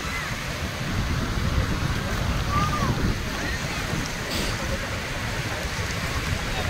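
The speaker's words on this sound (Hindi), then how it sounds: "देखिए कितनी सुंदर लहरें हैं," Ocean waves at Colva beach in Goa, a steady broad wash of surf rolling in with wind noise, heard continuously at moderate loudness.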